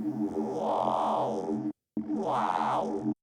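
Two loud phrases of a Serum 2 synth vocal bass with a pulsing talking-formant sweep that resembles the word "wow," separated by a brief gap.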